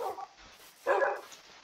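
Dogs in the Minecraft video game bark in two short bursts, a brief yap and then a louder, fuller bark a moment later, close and clear against quiet game background.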